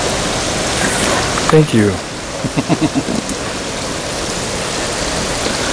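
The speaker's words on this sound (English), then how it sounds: "know if you can hear the waterfall" Steady rushing water of a waterfall at Waterfall Lake fills the background as a constant wash, with a few brief voices speaking over it near the middle.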